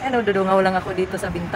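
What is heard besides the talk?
None of the usual background noises is heard.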